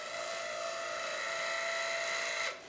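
A small engine on a 12-volt remote throttle control holds a steady high whine, then cuts off abruptly near the end, heard close and alone with no talking.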